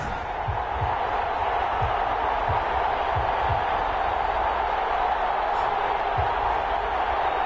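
Stadium crowd roar in an American football video game before a New York Giants versus London Black Knights matchup, a constant dense cheering wash with occasional low thumps beneath it.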